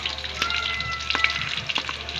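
Lechon fried being reheated in a pan gives a steady close sizzle and crackle, with a few light stirring clicks and no talking.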